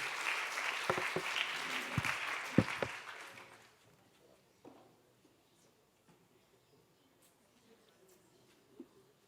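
An audience at an endometriosis medical congress applauds award winners: several seconds of many hands clapping with a few sharper claps, then a quick fade into near silence with only faint scattered noises.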